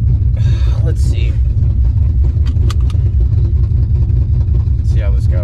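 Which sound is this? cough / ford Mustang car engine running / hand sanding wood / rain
ford Mustang car engine running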